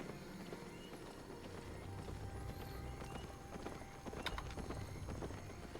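Hooves of a donkey mount in the online fantasy game Albion Online clip-clop in a steady trotting rhythm, moderately faint beneath a soft ambient game background.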